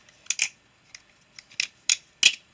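A balisong butterfly knife trainer flipped by hand, its pivots lubricated with heavy oil, giving a series of sharp metallic clicks and clacks in irregular bursts, close and fairly quiet.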